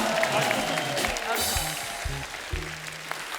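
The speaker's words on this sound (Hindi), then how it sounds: "एक बार हमारे मेहमानों के लिए जोरदार तालियां हो जाएं।" Studio audience applauding guests on a comedy show after a qawwali performance, loud continuous clapping from a crowd with voices talking over it.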